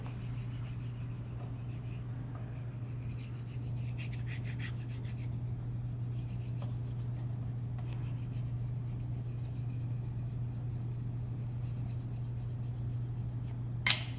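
A wooden spoon rubs across paper laid over an inked relief printing block for a multi-color block print, making a continuous scratchy rasping with periodic strokes over a steady low hum, ending in a sharp tap.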